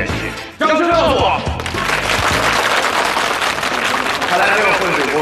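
A studio audience at a televised dating show breaks into loud, sustained applause mixed with cheering, starting abruptly and filling the room for several seconds.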